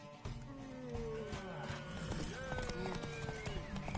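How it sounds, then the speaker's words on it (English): Horse hooves clip-clop steadily close by under busy background sound and voices, with a horse whinnying partway through. "Want that horse, don't ya?"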